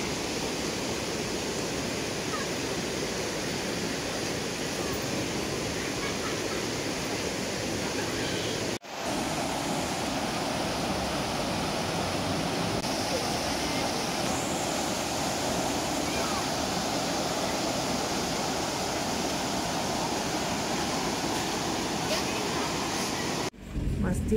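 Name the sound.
river flowing over large rocks at waterfall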